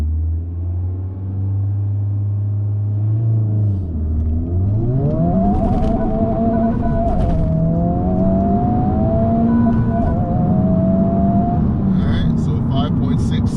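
A Honda Civic Type R FL5 pulls hard under acceleration, its engine note rising steadily through the revs with a loud, continuous rumble and whir, heard from inside the car with no talking.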